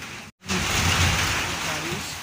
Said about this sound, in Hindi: कितना बारिश आ गया देख लीजिए, बारिश आ गया।